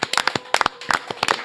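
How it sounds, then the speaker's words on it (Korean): Several quick bursts of hand clapping in a Korean news-talk studio broadcast, short irregular claps bunched in clusters, close and moderately loud, with no speech over them. "박수 한번 치고 가야지"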